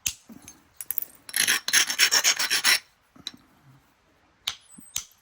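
A knapped stone dovetail point has its edge ground with a rasping, rubbing stroke, a rapid burst of scraping lasting about two seconds, then a few isolated clicks and taps, close and clear.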